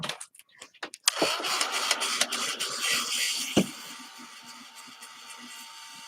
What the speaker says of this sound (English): So I'll blow dry them.